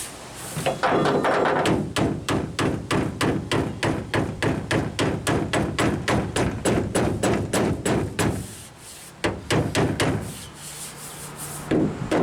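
Repeated hammer blows land on a bumping iron, shaping the bed lip of a damaged Ford pickup. The strikes come close and loud in a steady fast rhythm, then pause briefly before a few more hits.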